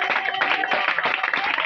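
Church-style members clapping loudly together to celebrate a victory, a dense continuous patter of many hands held close and steady for the whole short stretch.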